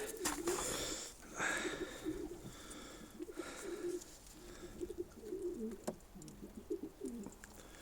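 Sport pigeons coo softly and repeatedly, low rounded calls rolling one after another at a close but quiet level.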